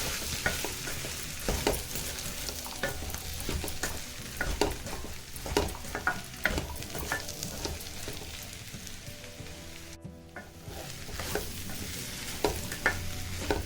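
A spiced potato and pea curry is stirred in a pan, with repeated scraping and clacking spoon strokes in an irregular rhythm over a soft continuous sizzle, close and moderately loud, no talking.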